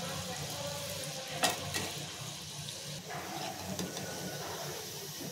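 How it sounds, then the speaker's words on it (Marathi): Gulab jamun deep-fry in oil over medium heat, giving a soft continuous bubbling sizzle, faint and close, with a couple of brief clinks from a spoon. "गॅस आपल्याला फास्ट नाही ठेवायचे, मीडियम ह्याच्यावरतीच ठेवून आपल्याला गुलाबजाम तळून घ्यायचे।"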